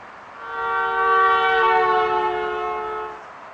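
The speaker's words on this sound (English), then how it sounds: "When a car honks its horn, as it approaches us, we hear the sound waves at a higher frequency." An approaching car sounds its horn in one long, steady, harmonic blast. The blast grows louder as the car nears, holds, then eases off slightly before it cuts out.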